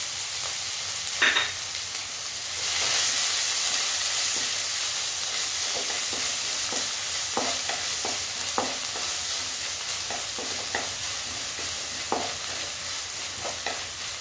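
Chopped onions and small shallots sautéing in a pan with green chillies, a steady soft sizzle running throughout, broken by occasional sharp stirring scrapes and clicks, close by with no talk.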